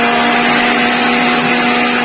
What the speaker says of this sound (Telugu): జీలకర్ర, ఆవాలు, మెంతులు, కరివేపాకు అవన్నీ కలిపి పొడి చేసుకుంటున్నాను.